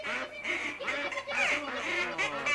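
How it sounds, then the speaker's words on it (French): Several ducks quack close by, loud overlapping calls in a steady burst of nasal honks, with no one talking. "Mais mon pauvre Piccolo, veux-tu qu'on les trouve, des canards?"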